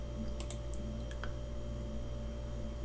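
Several quick, faint clicks from a computer mouse or keys while working through the VMware ESXi 6.0 installation wizard, scattered over a steady background hum.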